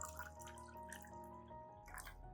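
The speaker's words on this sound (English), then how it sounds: "Add about 300 milliliters of clean water to the cup." Clean water, about 300 milliliters, pours into a cup with bright trickling and dripping splashes, close and fairly quiet, steady for a couple of seconds.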